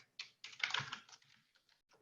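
Fast typing on a computer keyboard, a quick burst of close clicks that trails off into a few scattered taps, heard alone.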